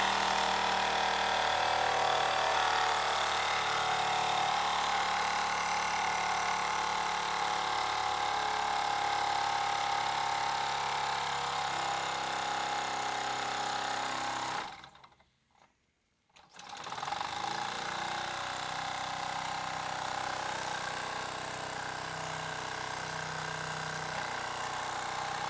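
A Mamod FE1 live steam fire engine runs flat out at full RPM, its fast-spinning flywheel and piston making a steady, rapid mechanical chatter. The chatter continues close and unbroken except for a brief dropout near the middle.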